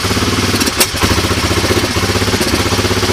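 A Honda 250SX engine, started cold after ten years unused and running a little lean, idles loud and close with a fast, steady pulsing beat and one brief louder burst partway through.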